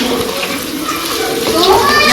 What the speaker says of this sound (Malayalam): അതിലേക്ക് ആവശ്യത്തിന് വെള്ളം ഒഴിച്ചു കൊടുക്കുക കേട്ടോ